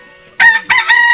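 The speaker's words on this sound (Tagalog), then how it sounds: "Ito yung mga manok." Rooster crowing among farm chickens in a rural province, two loud close crows in quick succession over a quiet background.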